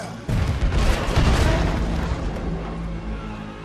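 Cannon fire booms in a Red Dead Redemption 2 battle scene aimed at a boat, a loud blast near the start followed by a long rumbling, crackling decay with continuous din.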